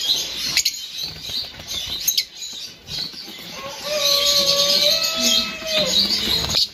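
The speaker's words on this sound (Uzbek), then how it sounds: "Amadina qushlar ha bular." Amadina finches in an aviary chirp and call, with short bright tweets, a few longer whistling notes and occasional wing flutters, close and fairly loud.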